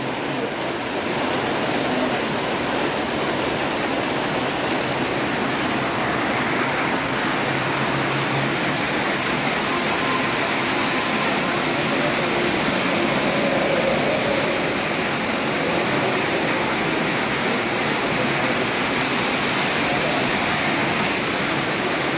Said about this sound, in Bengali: প্রচুর বৃষ্টি হচ্ছে কুমিল্লা